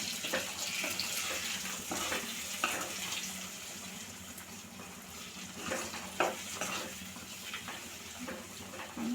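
Okra and egg masala stirred in a pan, a steady soft sizzle with scraping, wet stirring sounds that carry on throughout at close range, with no talking.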